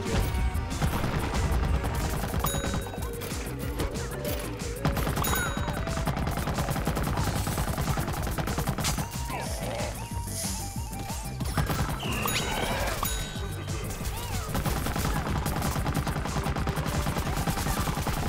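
Rapid gunfire and crashing impacts from a Plants vs Zombies Garden Warfare 2 shooter match, dense and loud throughout with brief lulls, layered over game music and effects.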